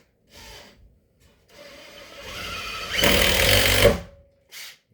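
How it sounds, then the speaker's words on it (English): A screw driven into wood for reinforcement by a power driver, with short whirring bursts building to a louder sustained grinding run that stops abruptly, then a brief final blip; close and clear with no talk. "now we're going to run a screw in here"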